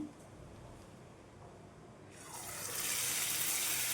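Urad dal fritter batter, punugulu, is dropped into hot oil on low flame and starts to fry, the low quiet background giving way halfway through to a loud, steady, broadband sizzle that swells and holds close up.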